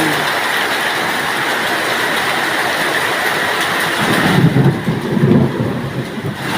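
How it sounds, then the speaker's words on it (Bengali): A hailstorm with heavy rain makes a loud, dense, continuous roar, with heavier thudding impacts toward the end, heard close and outdoors. "শিলা বৃষ্টি, এই দেখেন কীভাবে বৃষ্টি হচ্ছে"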